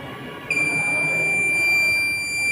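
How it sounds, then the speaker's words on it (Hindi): A driver drowsiness alarm fitted in a car sounds its buzzer, a steady high-pitched electronic tone that starts abruptly and holds continuously over a noisy interior background, fairly loud and close. "ये में बजर चालू हो गया।"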